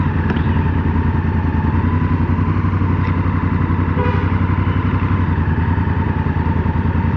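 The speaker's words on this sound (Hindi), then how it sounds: "थोड़ा बाइक आगे लेके खड़ा करता हूँ।" A motorbike on a roadside near the Nandi Hills exit outside Bangalore gives a close, loud, steady engine drone that runs unbroken throughout as it moves forward.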